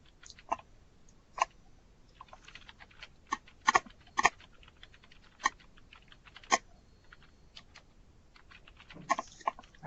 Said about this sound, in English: I think someone's typing.